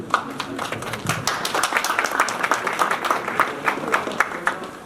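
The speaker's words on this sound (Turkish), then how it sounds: "ikisini de yürekten alkışlıyorum" An audience applauds at the opening of a sector-student cooperation club in Oltu, many sharp individual claps overlapping in a lively, uneven patter that runs throughout the moment.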